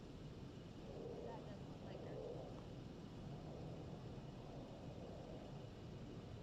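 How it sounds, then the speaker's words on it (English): A low, steady rumble of Putin's plane carries in the background of a live news feed in Alaska. It stays faint and even throughout, with no clear approach or fade. "you can hear his plane in the background on this feed"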